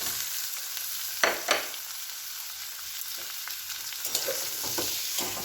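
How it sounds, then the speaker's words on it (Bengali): Chicken frying with garlic and onion in a pan, giving a continuous close sizzle broken by a few louder stirring clacks and scrapes. "এই যে আমি চিকেনটা বসিয়ে দিয়েছি, রসুনটা দিয়েছি, দিয়ে এবার পেঁয়াজটা দেবো এর মধ্যে।"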